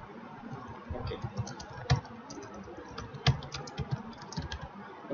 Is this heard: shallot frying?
no